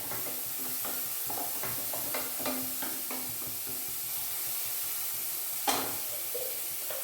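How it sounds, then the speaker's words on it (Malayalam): Onion frying in a small amount of ghee for a barley pulao, with a steady soft sizzle and repeated stirring scrapes and clinks near the pan, plus one sharper clatter toward the end. "നിങ്ങൾ ചെറിയ നെയ്ക്കകത്ത് തന്നെ ഉള്ളി ഒന്ന് വറുത്ത് കോരിയെടുക്കാം."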